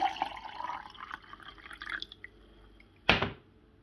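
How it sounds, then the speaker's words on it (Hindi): Extra water poured into a fat cutter drink holding a small lemon piece: soft, close trickling and dripping, then one brief sharp splash near the end. "अब इसके अंदर जाएगा एक्स्ट्रा पानी"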